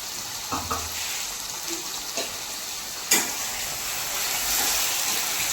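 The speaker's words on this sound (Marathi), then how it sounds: "बघा बघ बघ सखी कसं गुबू गुबू वाजतं." Chicken masala gravy with cinnamon and bay leaf sizzles and bubbles in very hot oil, a continuous close hissing sizzle with a few soft pops and one sharp clatter midway.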